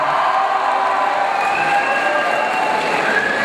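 Audience applauding a second-place winner at a Czech school ball, steady dense clapping from a crowd filling the room at an even, sustained loudness.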